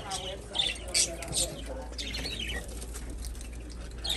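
Pet birds chirping in a pet store, several short bright tweets scattered over a faint background hum, with people talking quietly nearby.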